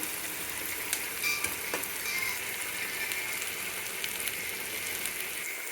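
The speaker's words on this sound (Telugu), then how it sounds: "బ్రౌన్ కలర్ వచ్చినాక అల్లం వెల్లిగడ్డ పేస్ట్ వేసి కలుపుదాం" Ginger garlic paste sizzles steadily in a hot pan while a spoon stirs it, with a constant bright hiss and occasional light scrapes and clicks.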